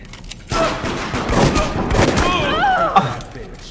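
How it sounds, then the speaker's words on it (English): Shotgun blasts in the video game Deceit come as a few sharp, loud bursts, with a player's voice talking excitedly over and between the shots. "Shotgun one in the face."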